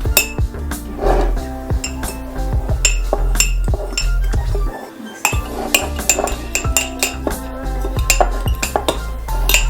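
A child stirs brownie batter in a mug with a spoon, giving steady rapid clinks and scrapes of metal on ceramic, close and fairly loud, with no talking.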